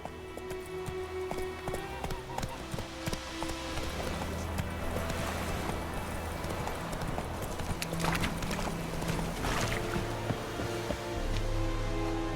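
Roach the horse trotting in The Witcher 3 video game: a steady, rhythmic clip-clop of hooves, close and continuous, with game ambience underneath throughout.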